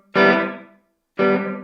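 An electric guitar played through a compact travel amp on its second preset with no reverb rings out in two loud, dry strummed chords, each cut off cleanly with a silent gap between.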